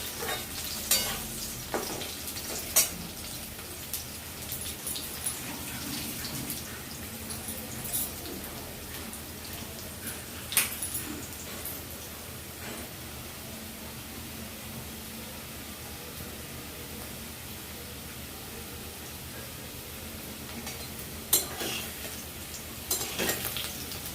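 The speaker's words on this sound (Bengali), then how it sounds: "দেখতে পাচ্ছ আলুটা আমার ভাজা হয়ে গেছে" Partly boiled potatoes fry in a pan on a raised gas flame, a continuous soft sizzle broken by occasional sharp scrapes and clacks of stirring over about twenty-four seconds, with no talking.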